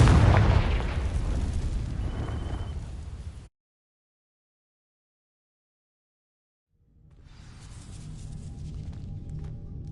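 A Confringo fire spell blasting dry vines in Hogwarts Legacy: a loud, broad burst that sustains for a few seconds, cuts to silence, then a rumbling, crackling tail swells back in.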